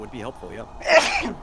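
A single sharp human sneeze bursts out right after a man's short spoken remark, close and clear, during a tabletop Final Fantasy role-play session.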